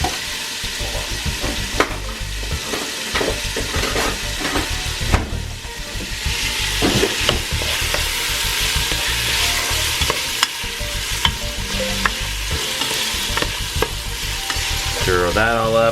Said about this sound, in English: And then you just stir it up.